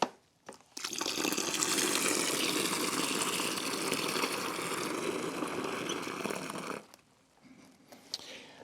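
Water gushes from a tap into a container while car shampoo is mixed in for cleaning a Nissan Primera P12 fuel flap, a loud steady rush for about six seconds that stops abruptly.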